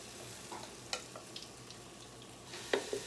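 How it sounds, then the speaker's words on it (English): Hoecake batter sizzling as it hits hot steak-dripping oil in a pan, a constant close frying hiss with a few sharp pops and crackles scattered throughout. "Yep, it's sizzling right away."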